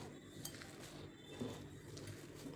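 Fasting thalipeeth dough being mixed in a bowl, with soft clinking and scraping of utensil against dish in an uneven rhythm, quiet and close, no talking.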